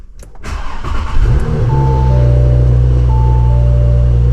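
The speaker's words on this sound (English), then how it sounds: "I'm gonna start it real quick" A car engine cranks briefly, catches, and settles into a steady, loud idle hum close by.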